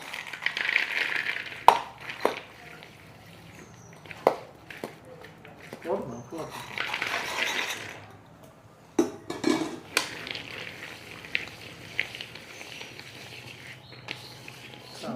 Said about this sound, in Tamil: இப்போ இந்த மாவில் நான் இந்த கடலையை சேர்த்துக்கிறேன்